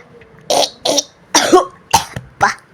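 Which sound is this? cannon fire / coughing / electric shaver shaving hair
coughing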